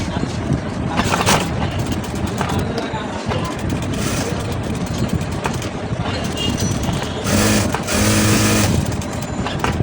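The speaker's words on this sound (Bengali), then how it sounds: "এরপরে সুন্দর করে সেলাই করতে হবে।" A sewing machine stitches a blouse, running in a steady, loud mechanical whir for the whole stretch, with brief speed changes and a louder surge near the end.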